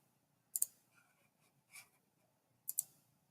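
Mouse clicks on a computer running Onshape CAD software: three crisp, close clicks spaced out over a few seconds, with faint softer taps between them in an otherwise quiet room.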